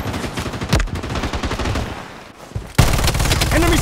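Gunfire in the video game Project Blood Strike: rapid bursts of automatic fire crackle steadily at close range, pause briefly, then resume louder and denser, with faint game voice cues mixed in.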